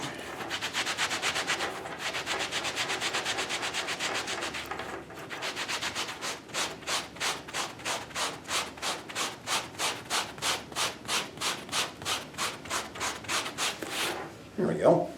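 Rough, rhythmic scrubbing on a leather jacket being distressed to look worn, a steady abrasive rasp that breaks into distinct back-and-forth strokes, close and fairly loud with no talking.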